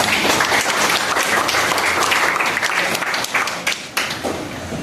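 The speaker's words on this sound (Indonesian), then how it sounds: "Tepuk tangan semuanya." A classroom audience claps together, loud and continuous for several seconds and thinning slightly toward the end.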